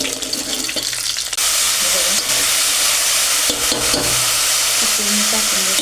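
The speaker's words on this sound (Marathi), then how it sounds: "मग मॅरिनेशन केलेलं चिकन मी त्यात टाकून घेणार." Marinated chicken, seasoned with turmeric and salt, drops into a pan of browned onion and sets off a loud, steady sizzle right after a brief stir, frying close and continuous with no talk.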